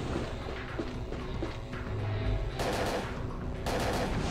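Gunfire aimed at a monster's shoulder in the PS1 game Parasite Eve 2: repeated sharp shots, with loud bursts standing out against a busy background of game sounds.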